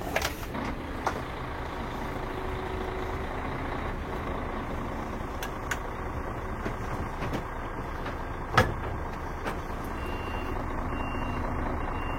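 A Setra S416GT/HD2 coach is slowly repositioned, its engine rumbling steadily in the background under faint repeated reversing beeps and an occasional sharp click or hiss of air.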